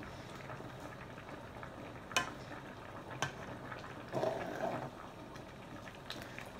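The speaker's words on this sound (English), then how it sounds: "Oh, it's bubbling." Quiet steady bubbling and simmering of liquid in a pot, with a few faint clinks and a brief louder burble partway through.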